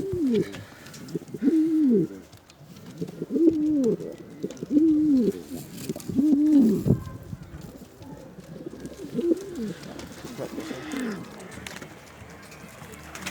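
Native Adana pigeons coo in a series of soft, rolling calls, repeated several times close by, with quiet background and occasional faint murmurs between them.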